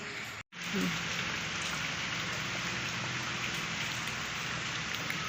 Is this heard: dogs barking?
no